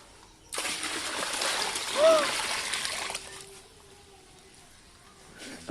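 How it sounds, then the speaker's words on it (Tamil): Water pours and splashes loudly for a few seconds, then cuts off, leaving quiet room tone with a faint trickle. "அவ்வளோ தண்ணியில் எடுத்து ஊத்துறியா"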